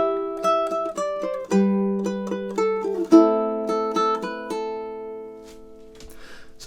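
Ukulele plays the Carol of the Bells melody in plucked bars with tremolo picking, bright notes stepping in a steady rhythm over a held low note, rapid repeated plucks in the middle, then fading out.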